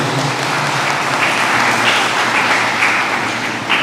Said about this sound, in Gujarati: આપણે એમને પહેલાં તાળીઓથી વધાવીએ